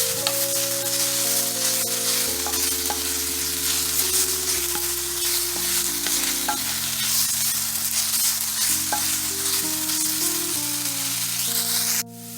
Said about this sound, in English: we're just going to go ahead and mix that up and let that saute for about 2 minutes